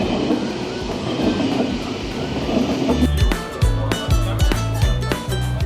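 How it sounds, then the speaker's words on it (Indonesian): At a railway station, a train bound for Zurich first gives a low rumble, then its wheels clatter over rail joints in a loud, regular clickety-clack close by. "Lagi nunggu kereta ke stasiun Zurich dulu"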